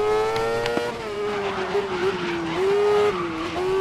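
Race car braking and skidding in the 2019 racing video game GRID, a steady engine drone with a long tire squeal that wavers in pitch, loud and close, with faint talk underneath.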